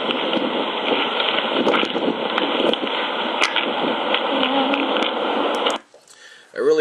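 Constant wind buffeting the microphone outdoors at night under a bridge, a loud rough rumble that holds steady for several seconds and then drops away suddenly near the end.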